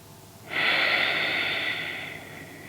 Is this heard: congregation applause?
no